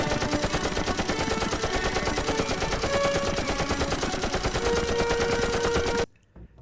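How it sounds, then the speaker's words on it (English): Rapid, sustained gunfire from shooting at a giant crab in the video game Scaler: a dense, steady stream of loud shots for about six seconds that cuts off abruptly into near silence. "Then you fly backwards shooting at a giant crab"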